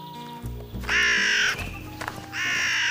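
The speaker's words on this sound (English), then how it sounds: "That raven is squawking a warning." A raven gives loud, harsh squawks, two long raspy calls separated by a brief pause, close and clear with no talking.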